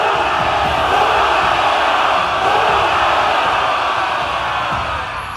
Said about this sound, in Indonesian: Sorakan semangat mengawali mereka.